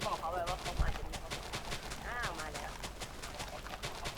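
Rapid bursts of explosions and gunfire from Minecraft blowing up chickens crackle over a steady mix, with a sharp thump near the start and a voice talking throughout.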